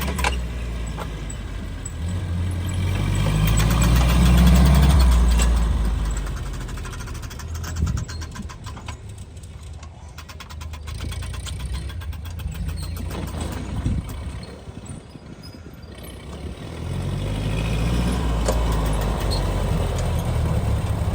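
A 1950 Ford 8N tractor engine runs steadily, chugging and rumbling close by, swelling louder at moments and then settling back to an even idle.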